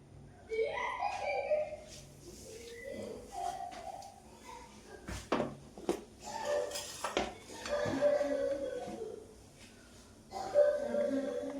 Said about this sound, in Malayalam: ഞാനത് അടപ്പത്ത് വയ്ക്കാൻ പോവുകയാണ്.